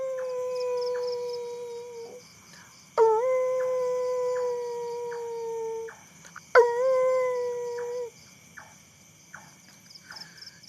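A dog howls at night in a park, long drawn-out wavering howls rising in three separate bouts over a steady chorus of crickets and insects, fairly near and clear.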